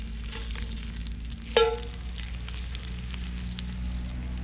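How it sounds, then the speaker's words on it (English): Bacon frying over an overnight campsite fire, a faint, steady low sizzle with soft crackles and one brief clink near the middle. "Just hooking the bacon up now."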